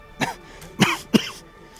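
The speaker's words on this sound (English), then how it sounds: "dry, scratchy cough." Three dry, scratchy coughs, the first softer and the last two louder and sharper, come close by from a trekker returning from Everest Base Camp, with short silences between them.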